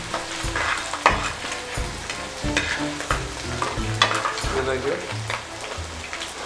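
Ginger and garlic crackle in hot oil for Chettinad mutton roast, a continuous busy sizzle with repeated scraping strokes of a stirring spoon, close up.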